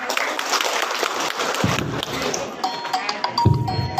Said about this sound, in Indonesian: sekali lagi tepuk tangan buat Bapak